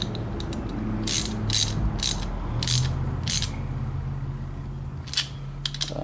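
A ratchet wrench tightens a bolt and nut with a star washer on the ground cable of a Hobart Handler 140 MIG welder, giving loud, close, repeated clicking strokes in uneven bursts, with no talking.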